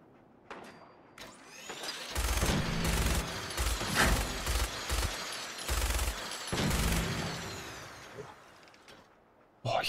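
Repeated bursts of gunfire in the post-apocalyptic video game Fallout 4, loud clustered shots and rapid volleys over several seconds, with a brief voice near the start.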